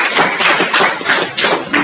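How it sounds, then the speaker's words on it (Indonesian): A school audience claps hands in a quick, dense, steady burst that stays close and loud from start to finish. "Tepuk tangan untuk ini"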